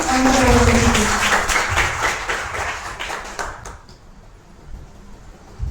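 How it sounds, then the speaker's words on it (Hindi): A church congregation claps together for a few seconds during a Sunday service, the applause fading out into quiet room tone. "तालियों के द्वारा उनका स्वागत करेंगे।"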